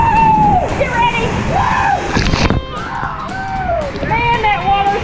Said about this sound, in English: Man, that water splashing!